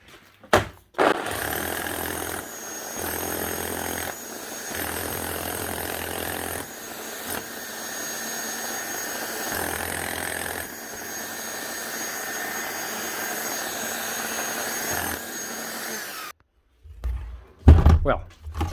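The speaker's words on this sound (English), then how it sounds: "But funnily enough, it does still hammer." A loud, steady mechanical drone of an old Makita HR4500C rotary hammer drill with a broken chisel stuck inside, running continuously, briefly cut off partway, then ending with a few heavy thumps.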